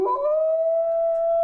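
A dog gives one long, steady howl, loud and close, holding a single sustained pitch with no voices over it.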